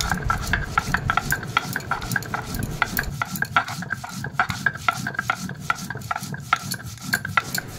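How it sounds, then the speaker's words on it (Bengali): Spices are ground with water on a traditional stone slab, or pata, producing steady rhythmic scraping and rubbing strokes close up, repeating in quick even passes with no talk. "মা জল দিয়ে ভালো করে পাটাতে বেটে নিচ্ছে"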